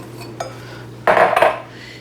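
Marshmallows drop into a bowl of Jell-O fruit salad with oranges, giving a light clink of a utensil against the bowl followed by a louder rustling, scraping clatter of dishware, close and brief, over a faint steady hum.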